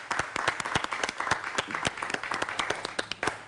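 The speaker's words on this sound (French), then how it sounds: "Ça s'applaudit." A small group claps steadily, a warm burst of applause at moderate volume with no voices.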